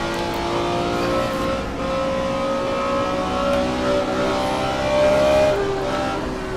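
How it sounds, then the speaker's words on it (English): Loud, steady BMW race car engine howl in a racing game at Willow Springs, with rising and falling revs as it accelerates, close and continuous without any talking. "The glorious sound of horsepower with the BMW."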